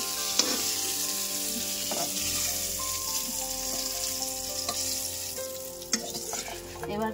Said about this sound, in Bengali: এবার তেল দিয়ে আমি এবারে আলুগুলোকে ভেজে নেব